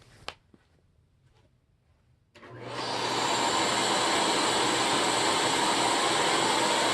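A Miele vacuum cleaner with a full FJM bag switches on after a quiet stretch and settles into a loud, steady motor whine and airflow roar close by.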